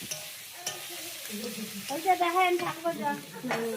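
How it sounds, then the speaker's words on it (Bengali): Food cooking in a pan over a wood-fired clay stove outdoors, with soft sizzling and stirring scrapes, occasional clinks and a few faint voices in the background. "এই যে উনুন দেখো, কাঠের জালে রান্না হচ্ছে সব।"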